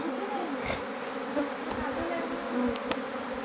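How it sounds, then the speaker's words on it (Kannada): A honeybee colony swarms at a house veranda and settles around its queen, producing a dense, steady buzzing hum from many bees close by, with a few brief louder passes. "ಈಗ ನೋಡಿ ರಾಣಿ ಇದ್ದ ಕಡೆ ಜೇನು ಕುಟುಂಬ ಬಂದು ಸೇರ್ತಾ ಇದೆ"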